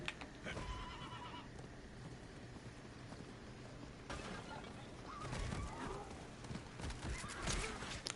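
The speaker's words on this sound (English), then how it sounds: "they made my horse scared." A frightened horse in the video game Diablo IV whinnies and snorts amid clip-clopping hooves and combat clatter, loud and close throughout, with no speech.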